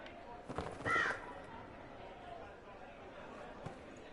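A single harsh crow caw rings out near the start in Dragon Age Inquisition, one short close call followed by faint ambient game sound and a soft tap later on.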